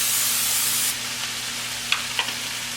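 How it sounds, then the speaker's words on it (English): Olive oil cooking spray sprayed into a skillet gives a loud, close hiss lasting about a second, followed by faint clicks and light clatter against a low steady hum. "I'm just going to spray that with the olive oil spray"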